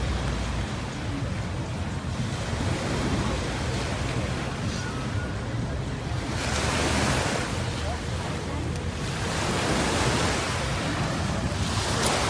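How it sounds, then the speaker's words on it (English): Waves wash onto a beach in Dubai in a continuous close roar, with surges swelling louder every few seconds and a wind-like hiss throughout. "You can sit on the beach."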